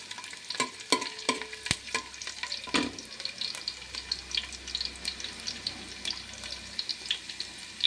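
Finely chopped garlic fries in a pan, with a few sharp clicks of the utensil early on and then a faint, steady crackling sizzle with light stirring.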